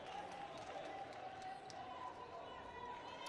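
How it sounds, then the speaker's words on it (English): Crowd noise from supporters of both teams in an arena during an Africa Netball Cup play-off game in Swakopmund, Namibia: a steady, loud wash of cheering and chatter with ball bounces and footfalls underneath, continuous throughout. "you can hear the noise in the arena here with the supporters of both teams really cheering them on"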